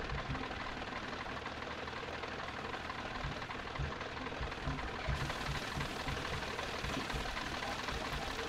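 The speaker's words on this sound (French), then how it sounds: "donc on va prendre notre tracteur." A tractor engine in the Farming Simulator 17 game, on the Goldcrest Valley map during forestry work, runs at a steady mechanical drone, low and continuous for the whole stretch with no talk over it.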